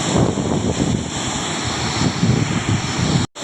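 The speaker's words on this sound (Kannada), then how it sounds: "ನೋಡಿ ನೀರು ಯಾವ ಥರ ಅನಿಸ್ತಾ ಇದೆ ಒಂದೇ ಗೇಟ್ ಓಪನ್ ಮಾಡಿದ್ದಾರೆ" Water roars out of one open gate of a village dam in a loud, continuous broadband rush buffeted by wind, with a brief dropout near the end.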